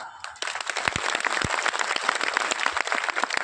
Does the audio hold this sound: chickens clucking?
no